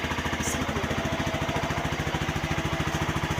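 A newly bought motorcycle idles nearby with a steady, rapid, even thumping putter that holds throughout at moderate loudness with no voices.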